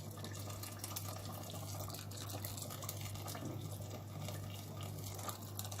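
Water running steadily into a pot of rice for Uzbek pilaf, a continuous soft pouring wash over a low steady hum, with no talking.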